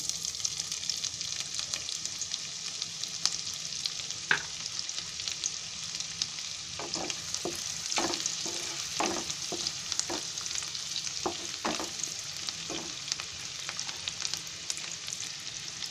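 A chopped onion sizzles in hot oil for Chicken Manchurian, a soft continuous hiss with scattered crackles and a run of light utensil taps in the middle, fairly quiet and without speech.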